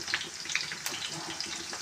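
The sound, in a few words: tadka, spices tempering and frying in oil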